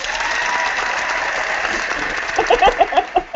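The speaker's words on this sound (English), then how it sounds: "And the crowd goes crazy." Studio-audience style applause swells for a few seconds, then gives way to irregular loud thumps and clatter near the end. No one speaks.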